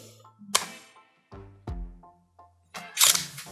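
A digital camera being repaired for a faulty sensor pixel switches off and runs its sensor black balance, giving a series of soft mechanical clicks and faint whirs spread out with brief silences, ending in a louder shutter-like clack.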